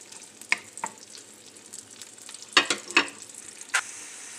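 Garlic and onion frying in a pan, a faint low sizzle broken by several sharp scraping and clacking stirs near the end, with no voices.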